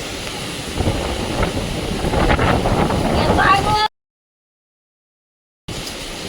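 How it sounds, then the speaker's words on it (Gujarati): Strong wind buffets the microphone in a loud, roaring rush for several seconds, then the sound cuts out briefly before the gusting resumes. "ચલો હવે જોઈએ કેવો પવન વાય"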